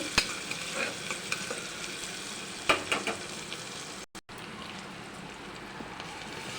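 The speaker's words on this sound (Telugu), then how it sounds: "ఆనియన్ పచ్చిమిర్చి వేసుకొని చేపు వేపుకుందాం బాగా వేగాలి" Onion and green chili fry in hot oil for a mutton curry, giving a steady bright sizzle with a few sharp stirring clatters and one brief dropout.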